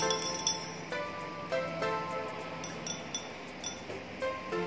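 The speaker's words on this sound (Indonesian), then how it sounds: "Kita aduk sampai NaOH ini larut semua." Glass rod clinks repeatedly against a glass beaker while stirring sodium hydroxide to dissolve it in a lab, light irregular taps close up with no talk.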